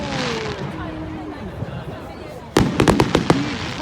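Fireworks go off outdoors on a cold night, a quick cluster of sharp cracking bangs breaking over a steady murmur of crowd noise and nearby voices.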